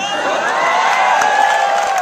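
A crowd at a Kanhaiya Kumar political speech cheers and whoops in a loud, sustained roar close by, with shouting voices blending into the noise.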